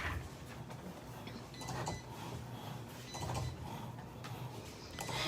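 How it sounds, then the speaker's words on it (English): A Cricut Explore 3 cutting machine cuts an Infusible Ink design, giving a steady mechanical whir with creaking, ratcheting movements that rise and fall over several seconds, with no talk over it. "that is going to cut out my Infusible ink"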